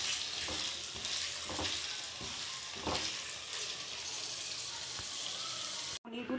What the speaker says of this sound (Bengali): কড়াতে প্রথমে সাদা তেল দিয়েছি, তারপরে এই পনিরগুলো দিয়ে দিলাম। এই পনিরগুলো দিয়ে ভালো করে ভেজে নেব।